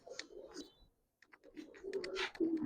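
Giribaz and coloured pigeons coo in soft, low bursts close by, a short pause breaking them, then a fuller run of overlapping throaty calls with light background clatter.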